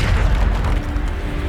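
A Descendo spell slamming into a target in Hogwarts Legacy, a loud, deep booming impact with a rumbling low-end tail filling the whole short moment.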